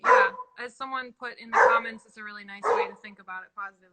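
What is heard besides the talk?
dog barking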